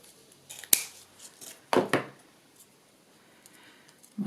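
Scissors snipping through paper to cut out a leaf shape for a decorative scrap project, a few sharp close snips spaced irregularly with quiet pauses between them.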